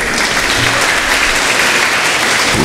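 Congregation at a New Year's Mass in a parish church applauding in a steady, dense wash of clapping that fills the whole moment, close and loud with no talk over it.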